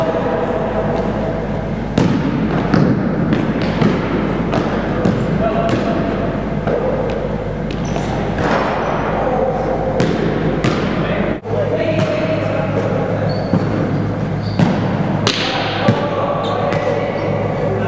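Basketball bouncing on an outdoor court during a pickup game, repeated sharp thumps at an uneven rhythm, fairly close and loud, with voices talking throughout.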